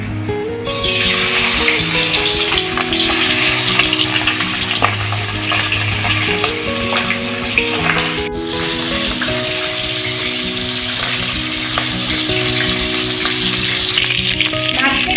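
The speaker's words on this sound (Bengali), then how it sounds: "কড়াইতে দিয়ে দিয়েছি সর্ষের তেল, তেল গরম হয়ে গেছে, মাছের মাথাটা ভেজে নেব" A fish head fries in hot mustard oil in a wok, making a loud, continuous close sizzle with occasional stirring, while a tonal melody plays underneath throughout.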